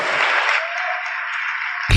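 A church congregation applauds in a dense, steady wash of clapping that holds at an even level, then cuts off abruptly at the end.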